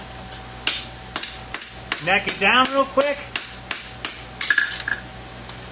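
Hammer blows strike a steel roadster wedge being forged, landing as repeated sharp metallic impacts at a steady working rhythm, close and loud, with someone talking between and over the strikes.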